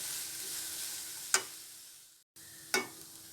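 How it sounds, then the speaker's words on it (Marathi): Onion sautéing in oil in a pan on a medium gas flame gives a steady soft sizzle, broken by two sharp scrapes or taps of a spoon and a brief gap. "कांदा मी मीडियम गॅसवरती परतत राहणार आहे"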